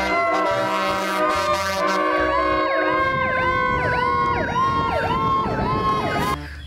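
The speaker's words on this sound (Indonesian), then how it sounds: "Di sini ada mobil pemadam kebakaran." A toy fire truck siren wails in repeated rising and falling sweeps, loud and close, with steady electronic tones layered underneath for several seconds before cutting off.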